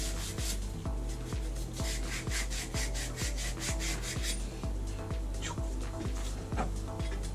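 Sandpaper rubbing back and forth on copper pipe during a plumbing repair, a steady close scraping rhythm of quick strokes, about two per second, continuous throughout at even loudness.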